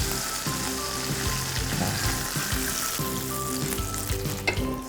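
Soy sauce and a splash of water sizzling loudly in a hot pan of frying tofu for Hakka-style dish, a continuous steady crackle with faint stirring, and a brief word spoken at the start.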